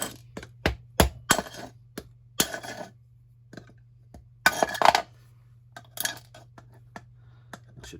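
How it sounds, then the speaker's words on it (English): A hammer tapping a screwdriver to break out a cutout, sharp metallic taps struck one at a time in an irregular rhythm, some in quick pairs, over a low steady hum with quiet gaps between. "So take a screwdriver, hammer, and just gently tap."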